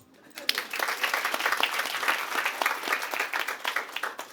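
Audience applause at a show, a dense burst of clapping that starts sharply and holds steady and fairly close, with some voices mixed in.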